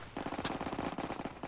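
Rapid automatic gunfire in a video game, a steady stream of about fifteen close, evenly spaced shots filling the moment without pause.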